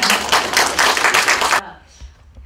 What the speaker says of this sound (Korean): 우리 이미화 박사님 나오실 때 큰 박수로 해주시기 바랍니다